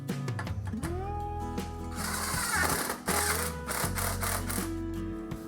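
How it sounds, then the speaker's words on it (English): A socket drives seat track bolts home on a 1990 Bronco II passenger seat, giving a steady, fast mechanical whirring and clatter that runs close and loud through the whole stretch. "Your socket, and you can drive it home."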